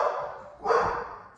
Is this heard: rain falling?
no